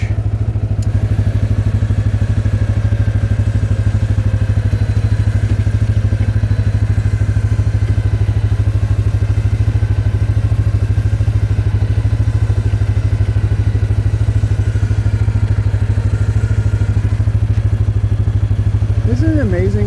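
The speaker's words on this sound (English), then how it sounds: "but we're going to winch." A winch, apparently running off a quad, pulls a wet well tank into a dugout, with a loud, steady low engine drone that throbs throughout, a few clatters and thuds, and a brief squeal at the very end.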